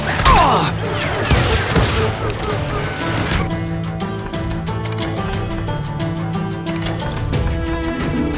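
A dense burst of covering gunfire in the Wild West shooter Call of Juarez: Gunslinger: rapid overlapping shots and clattering reports for several seconds, followed by a steady run of sharp, evenly spaced cracks over game music.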